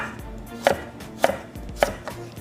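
Carrots are cut into rough julienne with a knife on a cutting board for carrot barbacoa tacos, giving three loud, close, evenly spaced chops with no talk.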